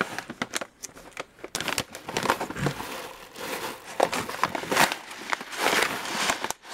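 A brand new plastic bag of airsoft BBs, a 5,000-round supply, is torn open up close, giving a run of sharp crinkling and ripping bursts with brief pauses throughout.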